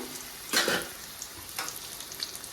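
Bitter gourd slices frying in hot oil for a Guntur-style karam fry, a soft steady sizzle broken by two louder bursts as the pieces are stirred, close and without talk.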